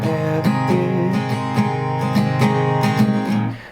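Acoustic guitar strumming the chorus chords of a song, steady rhythmic down and up strokes with regular strum attacks, close and full, fading at the end with no talking.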